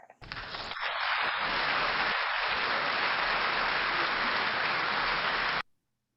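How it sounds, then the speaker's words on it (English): Applause from a luncheon audience, a dense steady wash of clapping that starts abruptly, holds at full strength for about five seconds, then cuts off sharply. "I love all the applause we're getting from the audience."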